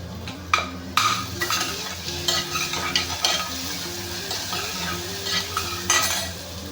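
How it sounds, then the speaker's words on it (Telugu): Ginger garlic paste frying in hot oil for a bottle gourd curry, a steady close sizzle with a spoon stirring and scraping against the pan, giving irregular clinks and scrapes. "బాగా ఎర్రగా కాగిన తర్వాత అల్లం వెల్లుల్లి పేస్ట్ కాస్త వేయాలి."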